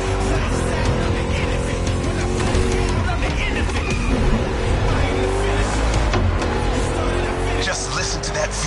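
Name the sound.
V8 car engine revving in video game The Crew Motorfest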